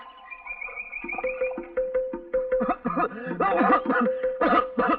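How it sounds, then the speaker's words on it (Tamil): A man coughs in a run of rough, repeated bursts that grow louder and more strained, partly sounding like wheezy laughter. "என்னப்பா இருமுற?"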